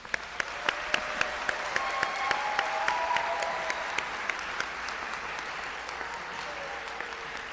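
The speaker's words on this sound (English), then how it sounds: "let's applaud your achievement" Graduation audience at a hooding ceremony applauding, a dense sustained wash of many hands with a few sharp nearby claps standing out over a steady hall rumble.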